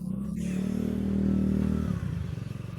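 A cheap Chinese scooter engine idles steadily with a low, buzzing putter, then its note drops slightly and carries on with a lumpier chug.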